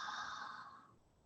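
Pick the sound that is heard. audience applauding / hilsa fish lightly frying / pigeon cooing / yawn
yawn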